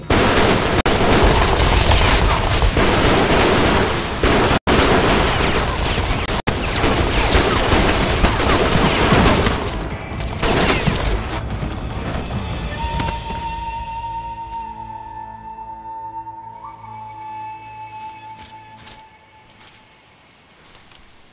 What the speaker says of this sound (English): You're no match for my artillery.